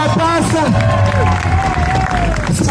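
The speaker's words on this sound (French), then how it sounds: "un applaudissement général pendant que Sarah" A crowd applauds and cheers for a motorcycle trial stunt rider during a show, the clapping and voices building into a general ovation while a loud announcer talks over it.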